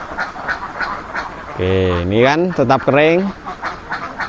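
Ducks in a laying-duck pen give a run of loud, close quacks lasting a couple of seconds, heard under and between someone speaking nearby.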